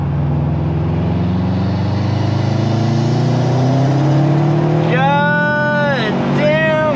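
Subaru WRX tuned on E85 fuel under a full-throttle pull: the engine note climbs steadily and loud through the gears, with sharp rising whines at each shift near the end, heard close from inside the car.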